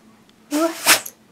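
Husky dog gives a single short, sharp sneeze close up after a soft huff, in an otherwise quiet room.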